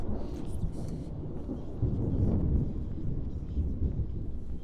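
Thunder rumbling through a lightning storm in the horror game Prognostic, with deep rolling swells under steady rain, loud and close throughout.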